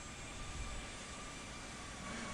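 A steady airliner engine roar plays throughout a landing in the Infinite Flight flight simulator game, a continuous broadband rumble at even moderate loudness with no speech over it.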